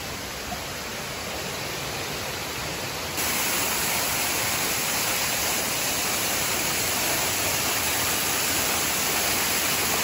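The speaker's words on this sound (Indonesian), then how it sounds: "cantiknya air terjun" Waterfall in the Kanching forest recreation area, a steady, loud broadband roar of falling water close by that swells slightly partway through and continues unbroken with no voices.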